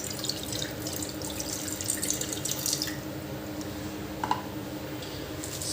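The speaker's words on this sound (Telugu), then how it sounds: "ఇందులో కొన్ని నీళ్ళు పోసి మరిగించుకోవాలి" Water streams and splashes into a vessel at close range, a steady pour with a few brighter drips and gurgles, no voices.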